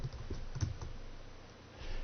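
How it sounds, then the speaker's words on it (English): A password typed on a computer keyboard comes through as a short run of soft, close key clicks in an uneven rhythm, quiet and with no speech. "then I'm going to type my password."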